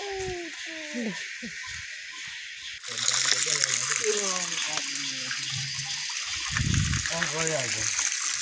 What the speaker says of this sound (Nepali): पानी भराइ कान्छी म पानी भरौँ ल।